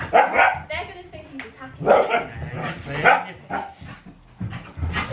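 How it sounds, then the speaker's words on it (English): A nine-month-old cocker spaniel puppy growls and gives short barks and yips during play, close and loud, mixed in with a person talking over it. "When he's playing, he growls."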